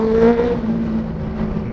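A Benelli 600 superbike passing by on a mountain road, heard as a loud engine whir and rising rev that peaks early, then fades into a steadier drone, with no talking.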